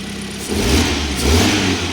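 A newly assembled Changan car engine runs smoothly, climbing from a low idle into a steady rev with a second rise, close and moderately loud with no talk.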